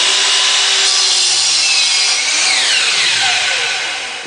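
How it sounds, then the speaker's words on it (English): A miter saw slicing through a piece of wood, loud and close, its high whining cut holding steady and then pitching down as the blade winds toward a stop. "You want to start the saw"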